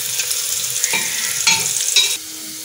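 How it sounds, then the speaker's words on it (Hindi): Onions frying in a pan over a high flame, a steady close sizzle broken by a few stirring scrapes and clinks, with no talking. "प्याज फ्राई हो चुका है"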